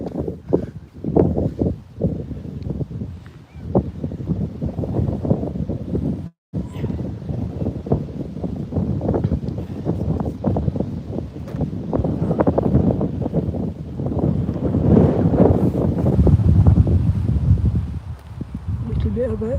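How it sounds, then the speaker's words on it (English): Gusty wind buffets an outdoor microphone in Dublin, Ireland, a steady rumbling roar with rustling bursts lasting throughout, loud and close, while a voice talks over it. "Little bit of a wind here."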